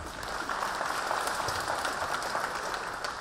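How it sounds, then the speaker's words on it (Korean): Audience applause at a Jeollanam-do governor primary convention, greeting three candidates; steady, dense clapping from a large crowd, continuous and fairly loud throughout with no voices on top. "세 분 후보님에게도 우리 모두 커다란 격려의 박수를 부탁드립니다"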